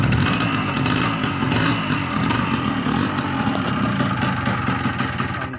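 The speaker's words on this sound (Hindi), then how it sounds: "मैं स्टार्ट कर रहा हूँ बाइक को" A motorcycle engine running after being started in a rural farmyard, a steady loud low rumble of idling that holds evenly across the whole stretch.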